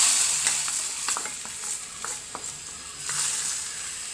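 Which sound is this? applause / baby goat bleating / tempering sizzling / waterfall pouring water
tempering sizzling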